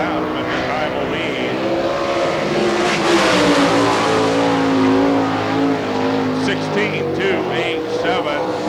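A sprint race car runs a lap of a Hartford, Ohio dirt track at an All Star Circuit of Champions Spring Nationals event, its engine snarling loudly and rising and falling in pitch under continuous announcer talk.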